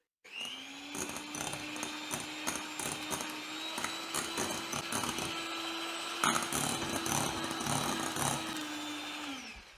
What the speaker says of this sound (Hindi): ठीक है जी, अब इसको बीट करेंगे।